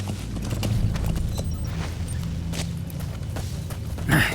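Horse hooves in the video game Metal Gear Solid V, a rhythmic clip-clop of a galloping horse under a low rumbling game soundscape, with a louder thump near the end.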